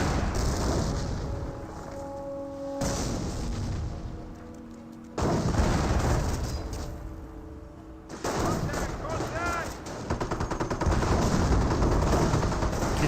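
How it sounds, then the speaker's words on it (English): Anti-tank gun fire in the Company of Heroes strategy game, repeated heavy booming shots mixed with battle gunfire in loud bursts, with commentary talk running over it. "We'll see some AT gun shots."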